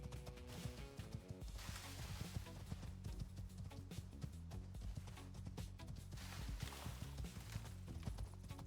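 A horse gallops at full speed at night in the survival game Icarus, its rapid hoofbeats pounding in a fast, driving rhythm with the occasional snort over a music bed.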